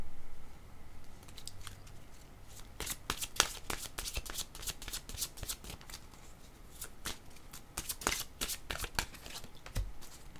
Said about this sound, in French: Allons-y avec mes cartes jaunes.